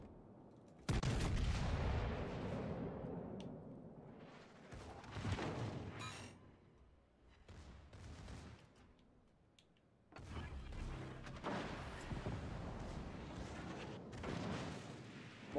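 Battleship main guns firing high-explosive shells in World of Warships Legends, a series of heavy booming salvos with rumbling tails, loud and close, separated by brief quieter gaps.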